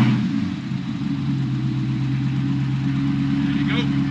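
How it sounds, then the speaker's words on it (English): A car idles steadily with a low, even engine hum throughout, the start itself not evident, while people talk over it. "I'll let the Dark Knight do the honors of starting her on up"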